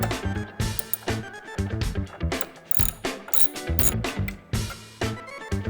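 A hand ratchet with a 10mm socket turns a dash bracket bolt on a 2008 Harley-Davidson Touring motorcycle, making quick bursts of sharp, close clicking separated by short pauses.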